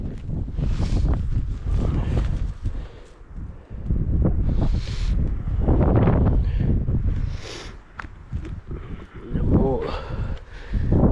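Strong wind buffets the microphone in heavy gusts while people talk outdoors on a highland pasture in November where cows graze.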